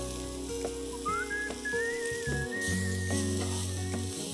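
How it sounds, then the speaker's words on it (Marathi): Bell pepper squares sauté in a hot pan for a restaurant-style chicken crispy, giving a steady close sizzle and fry hiss with faint stirring scrapes and a thin whistling tone running over it. "1 भोपळी मिरची घेतलेली आहे आणि असे स्क्वेअर्स त्याचे कापून ठेवले होते. सौते करून घेऊया."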